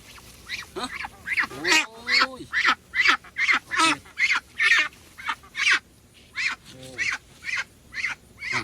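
Ducks on a farm during the rice harvest give a rapid series of loud, close quacks and honks in a steady, pulsing rhythm with almost no pause.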